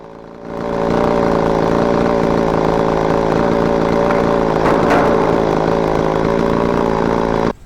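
A ported chainsaw runs alone at high, steady revs for several seconds, a loud, sustained buzzing whine that cuts off abruptly at the end.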